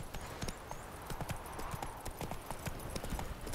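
Fast, rhythmic clip-clop of Roach galloping in The Witcher 3, a steady run of close hoofbeats from start to finish with no pause.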